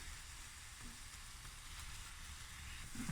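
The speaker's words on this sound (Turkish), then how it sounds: "Biraz da kaşıkla, spatulayla böyle iyice ezelim." Eggplant sizzles quietly in a pan while a spatula mashes and stirs it, giving soft scraping and squishing over a steady hiss.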